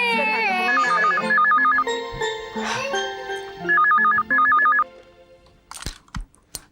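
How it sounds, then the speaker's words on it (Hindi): A melodic telephone ringtone chirps in two bursts of rapid warbling tones, loud and close, with a voice and household sounds around it in a TV drama home scene. "मम्मी को फोन सुनने दो प्लीज बेटा।"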